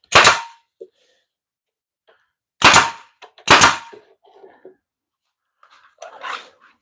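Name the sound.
air nailer firing nails into board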